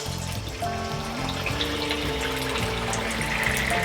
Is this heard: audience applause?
no